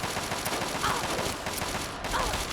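Rapid automatic gunfire from an assault rifle in Fallout 3, loud bursts of shots running continuously through the moment with no clear pause.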